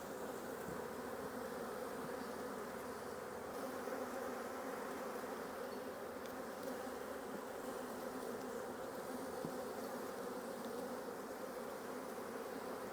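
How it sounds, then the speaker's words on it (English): A honey bee colony in an opened hive, its bottom box packed with bees, gives off a dense, steady buzzing hum close by. The hum holds unbroken throughout and no one talks over it. "you can see there, just pretty much an amazing colony of bees"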